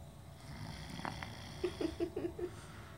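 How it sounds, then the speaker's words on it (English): Snoring from a sleeper: a run of five or six short, soft rasping snorts in quick rhythm near the end, faint and close against a quiet room hum. "It's not me snoring."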